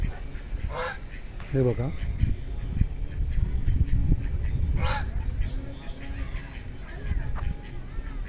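Assorted birds in a garden aviary give honking, goose-like calls in short bursts, fairly close and loud over steady outdoor background noise, with a person speaking briefly.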